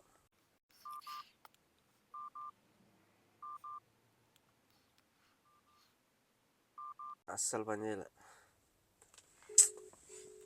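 Touch-tone keypad beeps on a mobile phone call home from Kuwait come in five short paired bursts, close and clear, followed by a brief spoken remark and a steady ringing tone at the end.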